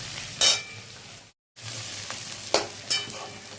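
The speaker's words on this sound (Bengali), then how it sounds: "রসুন পেঁয়াজটা একটু ভেজে নিচ্ছি" Garlic and onion fry in a pan with a close, steady sizzle. A spatula stirs them in a few scraping bursts, and the sound breaks off briefly partway through.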